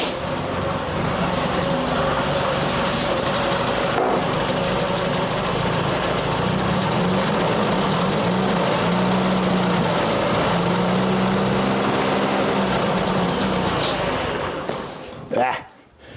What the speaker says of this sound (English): She doesn't like to run with that choke in for some reason.